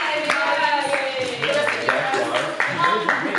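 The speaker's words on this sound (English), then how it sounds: "If you don't know how to snap and you're not 20 to 22 years old, you can golf clap" An audience at a poetry night gives a polite golf clap: scattered soft hand claps recur under ongoing talk in the room.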